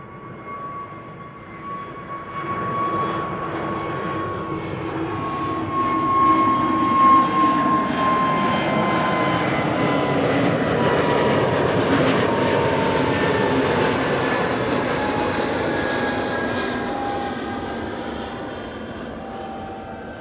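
An EasyJet Airbus A320neo jet airliner departs Amsterdam Schiphol Airport, its engine roar swelling to a loud sustained rumble with a whining tone, then slowly fading as it climbs away.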